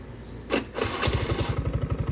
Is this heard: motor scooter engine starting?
yes